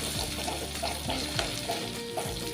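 Hot oil crackles and sizzles steadily as curry leaves fry in a tempering pan, with light stirring scrapes underneath.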